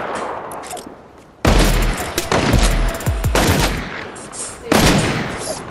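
Scoped revolver fire in Fortnite: a few loud, widely spaced shots ring out with reverberant tails over busy game noise.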